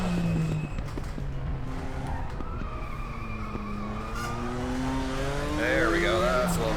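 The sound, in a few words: Nissan Skyline engine in video game Raceroom at Sonoma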